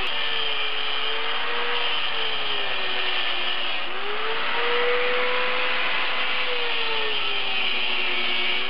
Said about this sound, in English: The grinder's faster and safer on the fingers.